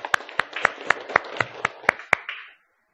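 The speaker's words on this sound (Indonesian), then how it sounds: "Beri tepuk tangan untuk kelompok 1" About ten sharp, evenly spaced claps ring out in a classroom as applause for group 1, crisp and fairly close, then fade to silence.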